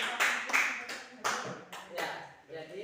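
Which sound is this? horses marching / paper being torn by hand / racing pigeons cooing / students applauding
students applauding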